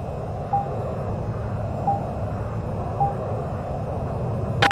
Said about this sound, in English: Negative, your engines are still running.